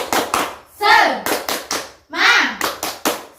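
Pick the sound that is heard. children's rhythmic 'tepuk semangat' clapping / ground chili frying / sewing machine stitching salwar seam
children's rhythmic 'tepuk semangat' clapping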